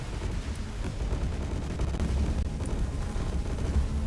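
Plasma Nova generators fire in a busy space battle game, a dense, continuous low rumble of rapid energy-weapon bursts with no pauses and no voices.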